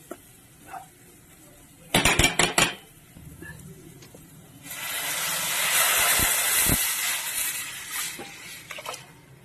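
Turmeric-mixed tamarind broth poured into a pot for a small-fish curry, giving a broad splashing hiss that swells midway and holds for several seconds, preceded by a few sharp clinks of utensils against the pot.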